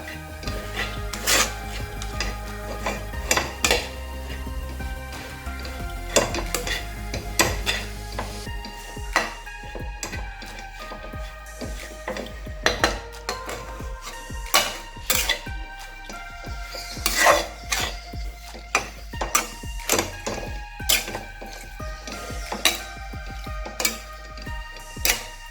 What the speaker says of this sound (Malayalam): ഇതിന് നമുക്ക് നല്ലവണ്ണം മിക്സ് ചെയ്യാം. ഇപ്പം ലോ ഫ്ലെയിമിലാണ് കിടക്കുന്നത്.